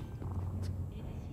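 A cat purrs in Cyberpunk 2077, a steady low rumble that fills the whole stretch alone, with no speech over it.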